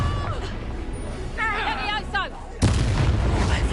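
Confringo spell explosions in the Hogwarts Legacy video game: a dense game battle with booming, crackling blasts, a short whistling magical effect in the middle, then a loud burst that sets off a sustained roar near the end.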